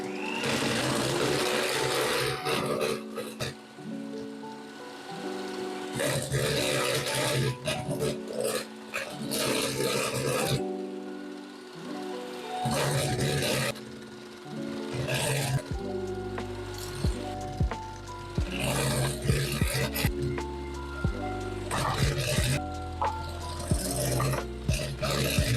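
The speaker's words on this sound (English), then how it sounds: "then mix and then add sugar and then mix until we use up all of the sugar that we have" Egg whites are whisked by hand in a bowl while sugar is added, with long stretches of brisk rhythmic scraping and rattling broken by short pauses, close and fairly loud with no speech.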